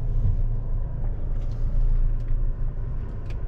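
A four-wheel drive vehicle set in sand mode rolls across beach sand at Rutherford Beach, Louisiana, its steady engine rumble and low road noise continuous and close throughout.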